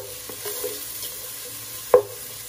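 Corned beef fries in a pan with a low, faint sizzle, broken by a few soft scrapes of stirring and one sharp clack of the utensil against the pan.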